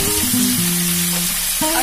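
Spice paste sizzles loudly as about two spoonfuls hit a hot pan for a Bengali mustard-paste pumpkin dish with lentil dumplings, a close, continuous frying hiss with no talk over it.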